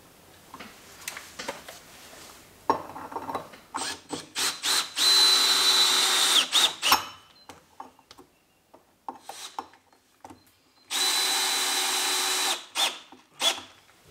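Power drill driving screws into a custom-cut window frame on a curved earthbag wall, with two longer loud whirring runs, shorter bursts and handling noises around them, close up.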